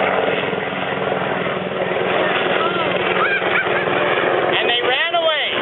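A voice imitates a helicopter for a puppet play, a steady whirring drone that runs throughout, with warbling vocal sweeps and a fluttering burst near the end.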